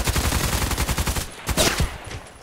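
Rapid automatic rifle fire in the shooter Contract Wars, a fast steady string of close, loud shots that breaks off before a few final bursts.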